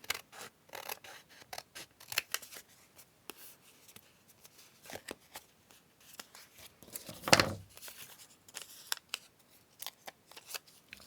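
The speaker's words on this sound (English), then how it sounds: "And then I'm just going to trim across here." Sharp scissors snip through paper while trimming a handmade journal pocket embellishment, a run of close, crisp cuts with one louder, longer slice partway through and quieter rustling of the paper around it.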